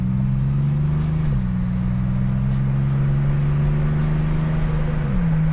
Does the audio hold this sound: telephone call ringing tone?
no